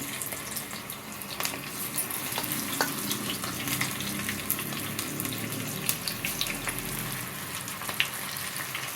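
Spinach (palak) pakoda balls deep frying in hot oil, a steady dense sizzle and crackle with scattered pops throughout, no voices.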